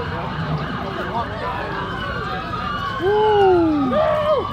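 Police sirens in a video game, several wailing tones sweeping up and down and overlapping as they draw closer, growing louder toward the end over a background engine rumble.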